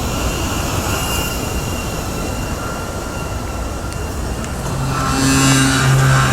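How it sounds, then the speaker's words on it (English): Steady low rumble of a nearby freight train airing up its brakes, with a rising hiss of air and sustained low tones building toward the end. "I hear my train airing up, and it'll make its final journey on into the yard."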